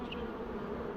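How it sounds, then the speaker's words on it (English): Honeybees from a swarm being transferred hum in a dense, steady buzz close around the beekeeper, continuous and fairly loud with no talk. "buzzing you while you're trying to do stuff."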